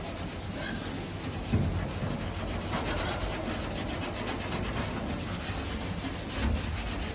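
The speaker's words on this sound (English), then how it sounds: "Scrubbing quite hard." A Scotch-Brite pad with acid is worked hard across a classic Mini panel van's metal panel, producing continuous loud, close, gritty rubbing in steady back-and-forth strokes.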